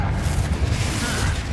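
Confringo blast spell from Hogwarts Legacy erupts in a deep, booming explosion that rumbles loudly and close for over a second with a dense low-end roar.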